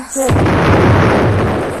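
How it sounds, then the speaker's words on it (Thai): A single loud boom erupts after a brief moment as a safe explodes in the Roblox game Brookhaven, a deep rumbling blast that fades slowly over the next second and a half. "ระเบิดตู้เซฟบ้านตัวเองไปเลยนะคะทุกคน"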